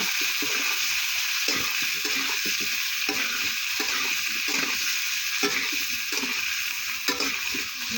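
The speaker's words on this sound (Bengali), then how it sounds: "আলু দিয়ে দিলাম, আলু ভাজবো" Potatoes fry in a pan with a continuous hiss, while a utensil scrapes and stirs through them at a steady, repeated rhythm, close and moderately loud with no talk.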